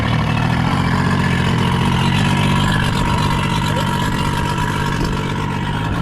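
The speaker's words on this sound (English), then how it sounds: "Like, it's starting great, it's idling fine." A rebuilt 1976 Mercury 650xs racing outboard motor idles steadily nearby, a loud, even mechanical drone with a faint rattle throughout.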